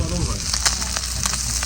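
Fish frying crisp in hot oil sizzles in a steady, close hiss, with small pops and spatters breaking through at intervals.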